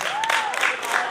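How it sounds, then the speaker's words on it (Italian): Audience at a magic show clapping, brief crowd applause with a voice calling out over it. "Anche loro. Applauso!"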